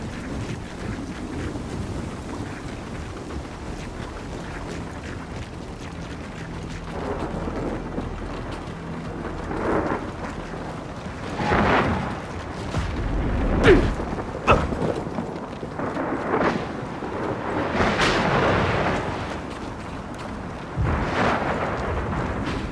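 A howling windflare storm sweeps through a Gears of War 4 level, with steady gusty wind roar and rumbling low end that surges in several louder blasts toward the end, without any voices.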